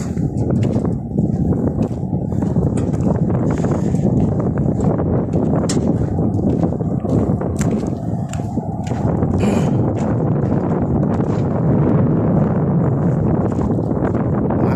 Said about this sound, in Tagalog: Malakas yung hangin guys.